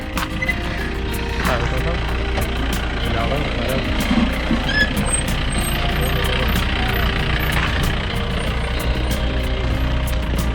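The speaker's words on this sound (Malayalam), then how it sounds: "ഈ ജീപ്പ് എങ്ങോട്ട് പോവാ" A jeep engine runs steadily on a rough off-road trail at Ramakkalmedu in Idukki, a constant low rumble that stays loud throughout, with a voice talking over it.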